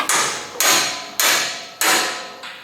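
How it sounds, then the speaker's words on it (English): Five evenly spaced, sharp metallic hammer strikes, each ringing briefly before fading, loud and close. "It's a weird looking hammer."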